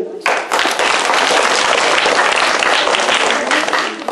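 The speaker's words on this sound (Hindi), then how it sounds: "रिंकू के लिए जोरदार ताली" A crowd at a tribal singing audition held at an ashram school bursts into loud, sustained applause, a dense wash of clapping that starts abruptly and holds steady before tapering at the end.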